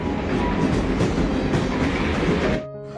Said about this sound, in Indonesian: dekat dengan perlintasan kereta api yang membuat bising setiap kali kereta api